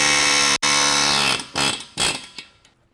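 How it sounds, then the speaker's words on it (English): An air hammer driving against a suspension joint on a 2021 Bronco, a loud, continuous rapid hammering burst that cuts out briefly, then several shorter bursts trailing off into quiet. "And next we're going to take an air hammer."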